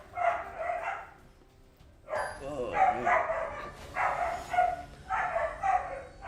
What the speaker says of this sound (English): Wow, dogs are going ballistic.